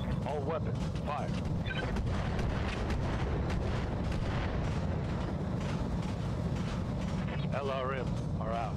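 Mech weapons firing in BattleTech RogueTech, a continuous, dense rumble of heavy shots and explosions with loud, steady battle noise throughout, while a person talks over it.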